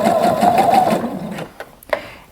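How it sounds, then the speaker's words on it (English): A sewing machine top stitching the band of a dress: a loud, close, rapid mechanical whir for about a second and a half, then it stops, followed by a couple of sharp clicks. "I'm going to continue top stitching."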